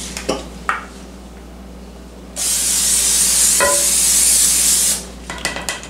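Knocks and clatter, then a loud hissing burst of cooking spray lasting about two and a half seconds, followed by more light kitchen taps.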